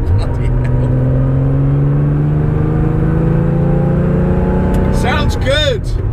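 Porsche 911 restomod with a five-speed gearbox, engine note sweeping steadily up and down under a driver's voice, ending in a short burst of crackles and a quick final rev.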